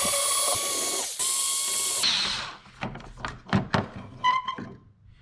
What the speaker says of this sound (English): We're gonna take out these three screws holding the little wind deflector thing off.